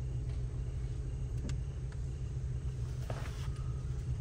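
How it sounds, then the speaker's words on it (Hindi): Stop-and-go road traffic in Gatlinburg, Tennessee at night, heard from inside a car as a steady low engine rumble with a few faint clicks and brief sharp noises, no talking. "देखो रास्ते में रश, ट्रैफिक ही ट्रैफिक।"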